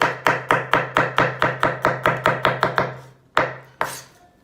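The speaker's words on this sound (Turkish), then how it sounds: "Soğanımızın içine büyük boy sarımsak siz üç diş doğrayın." Rapid, even knife chops of garlic cloves on a board, a quick run of about fifteen strokes, then two slower final cuts, close up with no talking.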